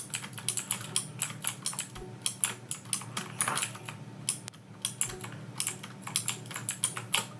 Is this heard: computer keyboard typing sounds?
yes